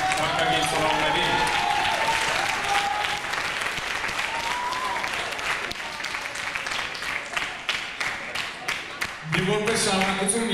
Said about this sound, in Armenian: բարձր ծափահարենք թանկագին ծնողներին